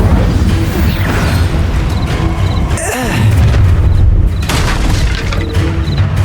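A fire spell cast in the Hogwarts Legacy video game, heard as a dense whooshing burst with a booming crackle around the middle, set against constant game ambience and music.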